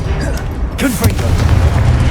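A Confringo blasting spell in Hogwarts Legacy goes off as a sharp burst with a brief rumbling boom, set against a steady bed of game noise and a voice.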